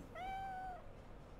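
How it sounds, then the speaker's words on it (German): A single clear, drawn-out cat meow from a hairless cat in Cyberpunk 2077, close and alone against a quiet background. "Hallo Kätzchen."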